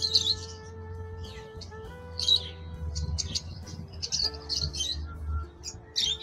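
Caged birds at a bird market selling lovebirds, cockatiels, budgies, finches, Java sparrows and conures chirp and tweet in repeated bright bursts over a steady low hum of market noise, with no talking.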